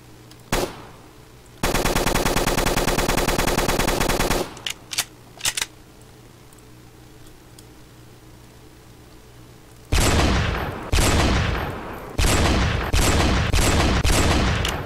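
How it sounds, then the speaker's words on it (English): Rapid bursts of automatic gunfire in the Roblox game Black Ops 3 Tycoon, a long sustained volley followed by several shorter clusters of sharp shots, loud and close. "All I hear is gunshots, like pew, pew, pew, pew, pew, pew, pew."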